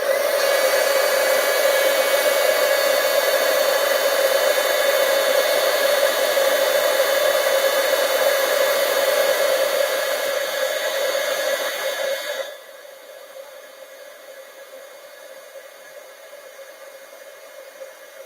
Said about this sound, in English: as I heat emboss here